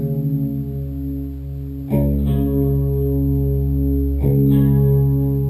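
An electric guitar in D tuning rings out sustained chords through distortion and effects, with two fresh strums restarting the ringing, loud and close.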